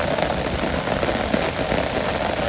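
Steady rain falls on a Bangladeshi village during the rainy season, a dense, even patter of drops on surfaces with no voices.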